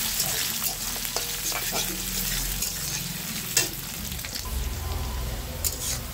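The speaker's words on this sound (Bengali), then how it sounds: "তেলটা গরম হওয়ার পরে দিয়ে দিব পেঁয়াজ কুচি আর লঙ্কা।" Chopped onion and chillies fry in hot oil in a kadai, giving a loud, steady close-up sizzle with occasional stirring scrapes and pops throughout, no voices heard.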